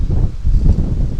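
Steady wind gusts rush through rose bushes ahead of a nor'easter, a continuous low roar with rustling and no voices.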